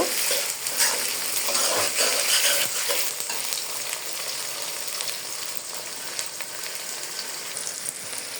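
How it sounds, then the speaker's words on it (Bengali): Tomatoes fry in a pan with a steady, close hiss of sizzling, joined by scraping stir strokes in the first few seconds, with no talk. "তো আমি যে টমেটোটাকে হালকা করে ভেজে নিয়েছি"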